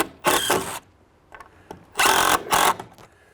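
A power drill drives a screw into a cedar post while building a shed outdoors: two loud, close whirring bursts separated by short quieter spins and clicks, with no talking.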